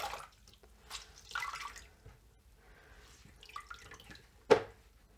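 Water trickles and drips as a wet microfiber cloth is wrung out, ending in one distinct splash of runoff, fairly close and quiet.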